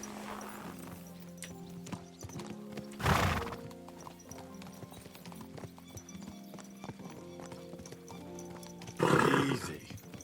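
Horse in Kingdom Come: Deliverance II giving two loud whinnies, one early and one near the end, with steady hoof clip-clop and game music running throughout, no talk.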